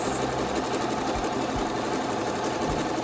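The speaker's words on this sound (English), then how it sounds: "I would sew this all the way down." A sewing machine stitches seam binding down onto a fabric face mask, a steady close mechanical whir with fast rhythmic needle chatter running continuously throughout.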